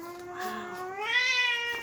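A cat meows while being held and petted, one long drawn-out complaining meow that rises and falls, close and clear with no talk.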